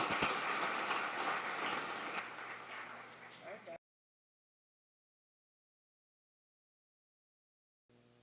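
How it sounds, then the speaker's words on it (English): An audience applauds a speaker, Lucas da Costa, as he is introduced for a talk: dense, steady clapping for almost four seconds that tapers slightly, then cuts off abruptly into silence before a faint sound returns at the very end. "let's give a big, big round of applause to Lucas da Costa"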